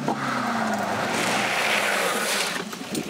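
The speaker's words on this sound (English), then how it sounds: "First lesson of the day, handbrake turns." A car at a stunt driving school whips through a handbrake turn, its tires skidding and squealing loudly over engine roar for about three seconds.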